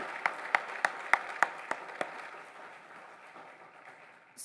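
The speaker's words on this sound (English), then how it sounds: "let's clap about that" A few separate hand claps ring out at a Frederick County women's week pitch competition, sharp evenly spaced slaps that thin out after about two seconds into a quiet room.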